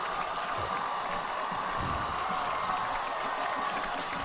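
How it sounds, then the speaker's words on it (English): Crowd at a high school football game between Summit and Independence, a steady dense roar of cheering and clapping that fills the air continuously without a break. "both crowds cheering for their respective teams"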